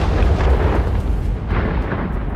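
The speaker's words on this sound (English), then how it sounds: "When the flames reach the ammunition, a massive explosion follows." Tank ammunition cooking off after a fire inside the vehicle: a loud, sustained rumbling blast roar that holds heavy and dense throughout before thinning slightly near the end.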